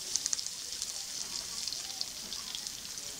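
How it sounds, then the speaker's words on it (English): Garlic and onion sauté in a hot pan for Filipino-style pork steak, a quiet steady sizzle with faint scattered pops and crackles throughout. "onions and garlic and then saute"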